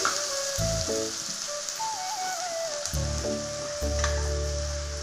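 Tomatoes and vegetables sautéing in a pan for leftover-chapati noodles, a steady close sizzle and crackle with bursts of louder frying and occasional stirring, no talk.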